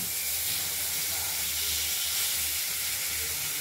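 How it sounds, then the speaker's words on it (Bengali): Tomatoes sizzling in hot oil for a rohu fish curry with potatoes, a steady broad frying hiss running continuously and fairly loud, with a low rumble underneath. "আমরা টমেটোটাকে আগে দিয়ে দিলাম তেলে।"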